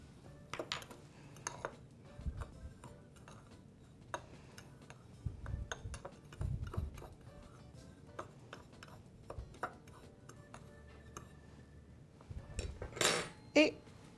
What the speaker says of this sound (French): Je vais mélanger la cannelle avec le sucre.